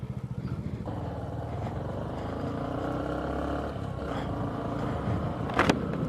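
A motorbike descends a snowy winter mountain road from Sukhi Top toward Gangotri, its engine a steady low rumble close to the mic, mixed with wind and road noise and a brief rattle near the end.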